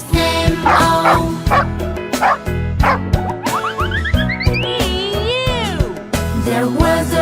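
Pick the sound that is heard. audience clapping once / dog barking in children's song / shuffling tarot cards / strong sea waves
dog barking in children's song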